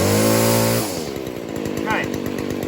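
A Stihl FS 40c weed eater's small two-stroke engine runs after carburetor tuning: a loud high rev drops abruptly to a rapid, even idle putter, near and steady, with a brief voice over it.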